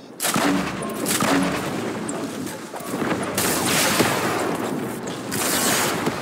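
Gunfire in Fortnite Battle Royale, a high-explosives game mode: dense, loud bursts of rapid shots and booms run almost without pause.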